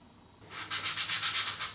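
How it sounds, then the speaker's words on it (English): Steady rhythmic sanding of the outside of a model rocket's piston, a rough abrasive rasp pulsing back and forth after a brief quiet start, close and fairly loud. "we're now sanding the outside of it"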